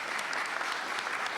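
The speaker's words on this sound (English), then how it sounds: "Let's give them a round of applause for that." Audience applause at a budget hearing, a steady wash of clapping hands that stays even and fairly distant for its whole short length, with no voices over it.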